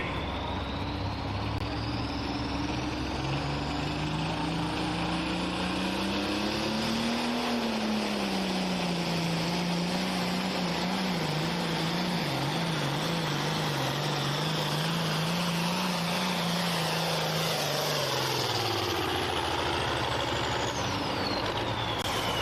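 A pulling tractor at the Cattaraugus County Fair in Little Valley, New York, runs its engine at full load in a loud, continuous roar that climbs, wavers and then sags near the end as it loses power.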